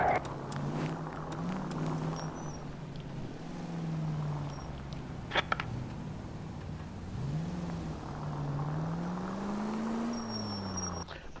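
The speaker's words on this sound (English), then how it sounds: "The monotony of waiting for traffic." Car traffic in the 1940s Los Angeles of the video game L.A. Noire: a steady engine drone with rising and falling revs runs throughout, with a couple of brief sharp clicks midway and faint high tones above.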